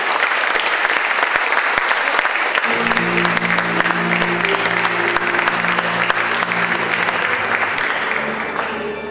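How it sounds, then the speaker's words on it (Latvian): An audience at an award ceremony for Riga's sports teacher of the year breaks into sustained, dense applause that continues at a steady level over a faint musical hum. "Ovācijas."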